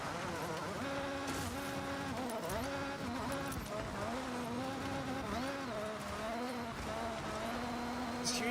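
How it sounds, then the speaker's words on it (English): A car engine in Forza Horizon driving off-road, a buzzing, wavering drone that stutters and shifts pitch continuously, close and steady throughout. "Just hearing like engine stutter so much because of being off-road."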